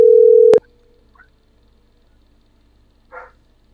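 A phone line gives a single loud, steady dial tone lasting about half a second and then cuts off; afterward there is near silence apart from a brief faint burst.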